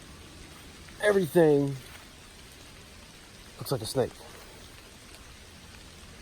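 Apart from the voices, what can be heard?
rain falling in the woods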